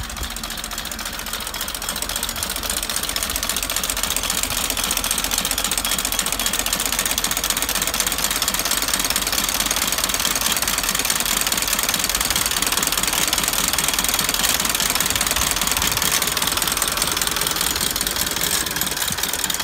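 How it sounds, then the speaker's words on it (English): A vintage Daimler 22hp car engine runs steadily after being started by hand crank, with a busy, rattling, knocking idle that stays loud and continuous throughout. "I'm coming round and giving it a swing"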